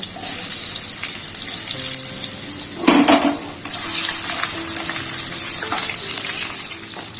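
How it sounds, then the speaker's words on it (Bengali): Cut potatoes sizzle steadily in hot oil in a home kitchen, a continuous near hiss, with a short louder clatter near the middle. "এখন আমি এই তেলের মধ্যে দিয়ে দেবো কেটে রাখা আলু। আলুটা হালকা করে ভেজে নেব।"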